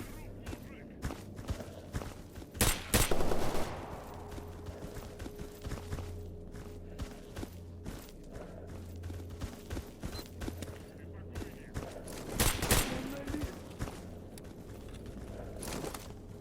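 Rifle gunfire in the video game Stalker Anomaly: two loud bursts of shots stand out, the first early and the second near the end, over ongoing footsteps and movement noise.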